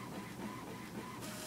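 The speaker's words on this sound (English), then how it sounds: "So you can hear the printer going." An inkjet-style printer printing a picture sent over AirPrint, a faint steady mechanical whirring and buzzing with a brief rise in hiss near the end, heard alone without talk.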